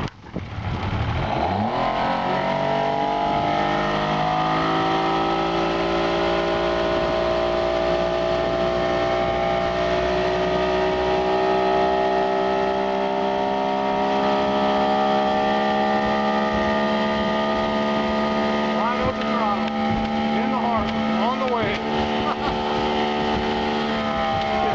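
A restored 1963 MFG runabout boat's engine starts, then revs up and holds a loud, steady drone with rising harmonic tones, close by, for about twenty-five seconds.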